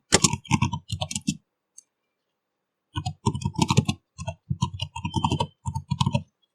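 Typing on a computer keyboard while entering a database query: quick bursts of crisp key clicks, a short pause, then steady clusters of keystrokes, close and alone.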